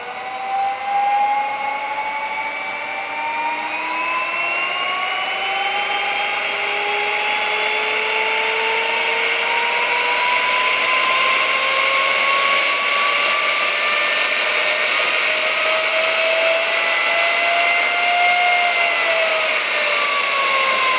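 A 45,000 RPM high-speed ID grinding spindle on a machine tool runs with a steady, loud, high-pitched whine and layered tones that drift slowly upward, continuous for the whole stretch with no voices.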